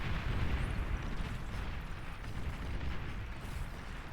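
Naval units shelling a position in the real-time strategy game Beyond All Reason, heard as a dense, continuous roar of overlapping explosions and rumbling impacts that holds steady and loud throughout.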